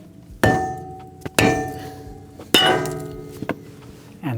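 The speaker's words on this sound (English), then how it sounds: "Perhaps this rotor will come off with a hit with a mallet" A mallet strikes a seized brake rotor several times, three sharp metallic clanks ringing out at intervals, with a lighter tap or two between them and no speech.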